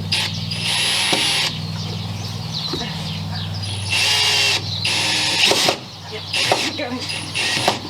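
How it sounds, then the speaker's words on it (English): A power drill drives screws in several loud, close bursts of whirring, each lasting about a second or two. Pauses with background hum and faint sounds separate the bursts. "Do you want to help put some screws in, Angus?"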